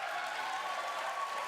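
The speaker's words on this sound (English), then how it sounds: "he clapped at that one" Steady applause from a crowded chamber audience at a State of the Union address, a dense even wash of many hands clapping throughout, moderately loud and without speech.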